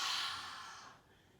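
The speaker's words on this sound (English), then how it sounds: "Easy breath in, and as you breathe out" One long, deep exhale breathed out close to the microphone during a children's breathing exercise, a breathy hiss that trails off over about a second.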